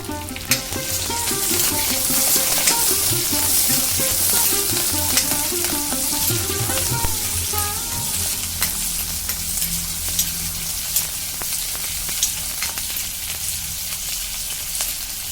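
Six or seven thinly sliced round shallots fry in hot oil in a pan for a jackfruit-seed mango curry, giving a steady loud sizzle with occasional clinks and scrapes from stirring.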